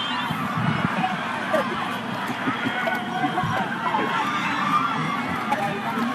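Supporters of the QVS side cheer and shout from the stands at the 2019 Deans U18 rugby final, a steady, dense crowd roar lasting throughout, with commentary voices mixed underneath.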